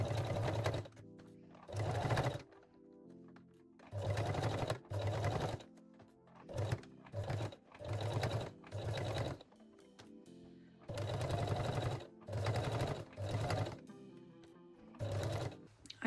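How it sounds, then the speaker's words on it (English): Home sewing machine stitching fabric for a cosmetic pouch in bursts of steady whirring, about ten runs separated by short pauses, close and clear with no talking. "And sew the second side."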